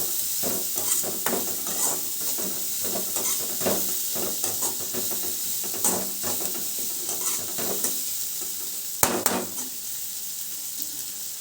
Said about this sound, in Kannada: ಫಸ್ಟ್ ಇದನ್ನು ಎಣ್ಣೆ ಒಳಗೆ ತಳಿಸ್ಕೋಬೇಕು ರೀ ಈರುಳ್ಳಿ ಜಾಸ್ತಿ ಇದ್ದರೆ ಇದು ಚೆನ್ನಾಗಿರುತ್ತೆ ರೀ